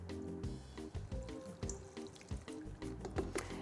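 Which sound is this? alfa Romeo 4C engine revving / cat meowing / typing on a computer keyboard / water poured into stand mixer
water poured into stand mixer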